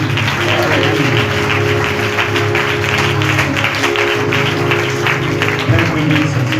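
Loud, sustained clapping from a church congregation during a fasting prayer service, steady throughout with a low hum of voices and sound system underneath.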